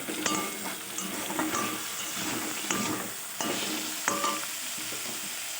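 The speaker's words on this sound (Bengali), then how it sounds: "প্রথমে আলুটা ভেজে নিচ্ছি" Steady sizzling of potatoes frying in a pan, with occasional clinks and scrapes of stirring cutting through the hiss.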